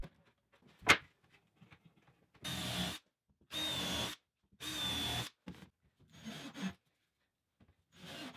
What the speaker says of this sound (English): I'm mostly using pocket screws, and whenever possible, I just screw it together from the other side